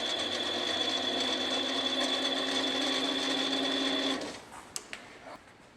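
A powered lathe running in reverse to back a tap out of a part for a miniature steam engine, a steady close mechanical whine and hum that stops after about four seconds, followed by a few small clicks.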